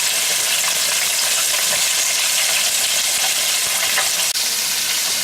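Buttermilk-coated pork chops deep fry in vegetable oil, a loud, dense, unbroken sizzle and crackle heard up close and alone throughout.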